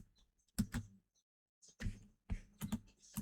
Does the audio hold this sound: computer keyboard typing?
yes